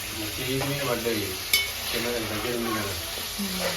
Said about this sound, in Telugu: ఆయిల్ బాగా హీట్ అయితే చికెన్ వేసరికి పేలిపోయింది